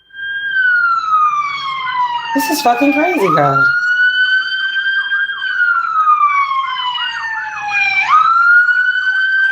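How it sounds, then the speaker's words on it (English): Several emergency vehicles (ambulance, police car, fire chief) pass with loud, close wailing sirens whose pitch rises and falls, plus a burst of yelping tones; a person speaks briefly over them. "a siren."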